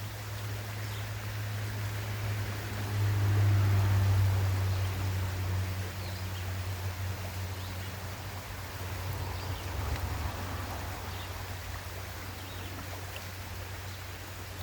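A creek flows under trees in Pennsylvania coal-mining country, heard as a soft, steady broadband wash of water with a faint low hum underneath, continuous and distant-sounding with no talk.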